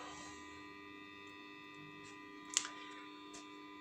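The power-supply transformer of a homemade tube power amplifier hums steadily and faintly, with one sharp click partway through.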